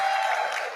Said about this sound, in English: Can we please give a round of applause for Regina?